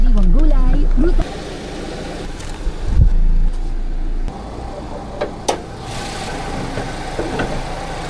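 Engine of a 2017 Chevrolet Sail running steadily at idle during a home-service oil change in Cavite, a continuous low hum with people talking over it and a few brief knocks and clicks nearby.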